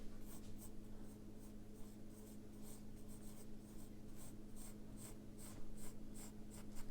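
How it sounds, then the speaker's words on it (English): Pencil sketching lines of a belt pattern drawing, a steady run of quick, close scratchy strokes over a constant low hum, with no talk. "So I'm building around that skeleton, doing my sketching here."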